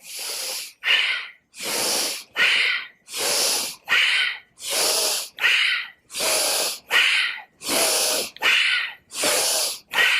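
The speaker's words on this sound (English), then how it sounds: "In and out through the nose, through full inhale, full exhale." Forceful breathing in and out through the nose in a yoga flow, about a dozen strong rhythmic breaths in a steady alternating pattern, each a loud, close, hissing rush of air with short pauses between.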